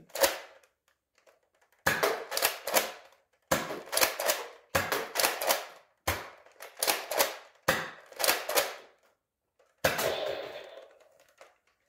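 A mechanical Nerf blaster fires Ekind Waffle Dart foam darts in repeated bursts. Each burst is a quick run of sharp, snappy clacks, close and loud, with short silent pauses between the volleys.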